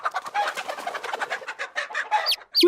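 A mother hen clucks in a close, steady run of short rhythmic calls, guarding her chicks, with a few sharper higher notes near the end.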